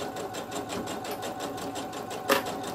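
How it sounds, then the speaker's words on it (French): A sewing machine runs a steady rapid stitch, topstitching along the edge of a piece of fabric for a DIY travel cutlery holder, close and continuous with one brief sharper clack near the end. "je fais une surpiqûre au bord de mon tissu"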